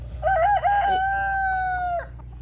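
A Silkie rooster crows once, loud and close, a drawn-out cock-a-doodle-doo with a long held final note, over a low background hum.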